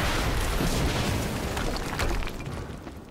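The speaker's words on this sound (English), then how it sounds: "We just heard an explosion near the harvesting perimeter." An explosion goes off in the video game Quantum Break, a loud, broad boom with crackling debris that rumbles on and slowly fades over about three seconds.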